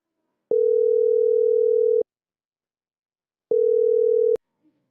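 Two steady electronic phone tones sound while a call is being dialed, the first lasting about a second and a half, the second shorter after a pause, each starting and stopping abruptly.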